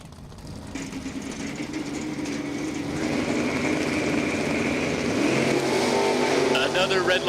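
A blue pickup truck at a drag racing event revs its engine and launches, the roar building steadily and staying loud under a track announcer's commentary.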